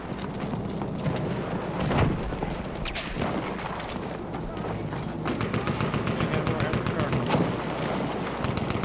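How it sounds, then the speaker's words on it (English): Heavy gunfire from an enemy airship behemoth in Battlefield 1, dense machine-gun bursts and booming shots rattling continuously and loudly, with voices mixed in. "Just running from the behemoth fire."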